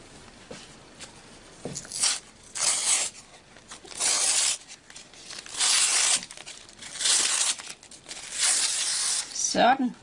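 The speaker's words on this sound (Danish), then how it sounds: "Og nu kan vi så tage tapen af." Strips of tape are pulled off a sewn pleated skirt in a series of short ripping bursts, close and fairly loud, separated by brief pauses.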